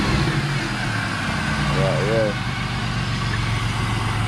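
A Monte Carlo SS engine fitted with a cheap cold air intake, held at a steady loud rev with a dense, continuous mechanical roar. A brief voice breaks in partway through.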